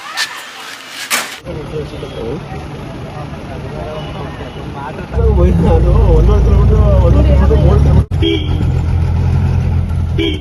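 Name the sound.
jeep driving up to a tribal village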